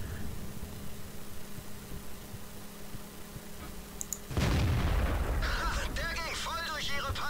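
Tank cannon fire in World of Tanks, a Panzer IV shot bursting in loud and sudden mid-clip after steady engine rumble, followed by rattling debris and ringing tones, with a voice talking over it.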